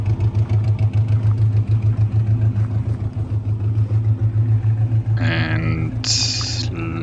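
A rally car engine with no exhaust idles with a loud, throbbing, unmuffled rumble, pulsing steadily; near the end a few brief higher-pitched bleating sounds appear over it.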